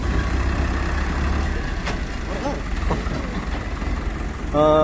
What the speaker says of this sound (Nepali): यहाँ ट्र्याक्टरले गाडीले चाहिँ पाइप ल्याइरहेको अवस्था छ